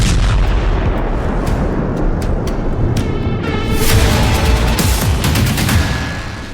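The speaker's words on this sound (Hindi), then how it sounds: "यह धमाका उसी हादसे का बताया गया है" A Falcon 50 private jet crashing in Libya at night, heard as a loud, sustained roar of blasts with sharp cracking bursts layered over a rumbling low boom, fading slightly at the end.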